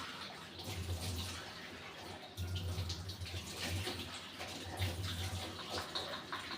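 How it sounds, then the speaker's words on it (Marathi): Tap water runs steadily into a sink while a non-modular home kitchen is washed down, a constant splashing stream at moderate distance with a few soft knocks and no voices. "आता हे पटकन मी धुवून घेते किचन, मग तुम्हाला दाखवते."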